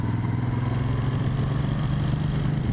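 A motorcycle engine with a freshly adjusted carburetor idles steadily at close range, a low continuous rumble with no talking.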